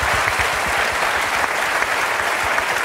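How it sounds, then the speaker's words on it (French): A large audience at the Koh Lanta Palau final applauds loudly and continuously, a dense close wash of many hands clapping with no voices over it. "je pense qu'on peut tous d'ores et déjà vous applaudir très très fort"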